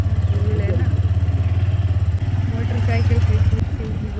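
A motorcycle engine churns steadily while riding off-road on a village track, a loud, constant low drone for the whole stretch with voices talking over it.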